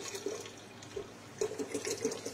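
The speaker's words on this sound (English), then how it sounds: "let's go ahead and top it off with water" Water poured to top off a gallon pitcher of almond tea, a soft continuous splashing pour with brief louder gurgles, close by and alone.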